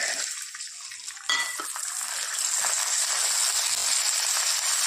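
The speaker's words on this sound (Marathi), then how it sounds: "त्याच्यानंतर आपल्याला टाकायचं त्याच्यात राजमा." Kidney beans (rajma) are tipped into a pan of cumin tempering and stirred, giving a steady hissing sizzle with scraping and clinking from the spoon against the pan after a sharp onset.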